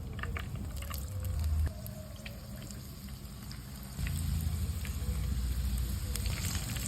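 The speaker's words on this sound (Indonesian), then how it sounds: "Di sini aku sudah panaskan minyak buat menggoreng." Food fries in hot oil in a home kitchen, a soft steady sizzle and crackle at low level with occasional small pops, heard alone without talk.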